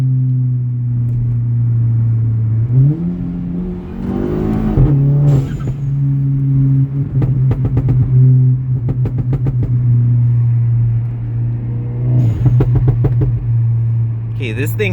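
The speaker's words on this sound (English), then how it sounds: "Turbo's going nuts right now." Tuned VW MK7.5 GTI with an EQT tune accelerating hard, engine droning steadily with rising turbo spool and shifts, loud and close, with people talking excitedly over it.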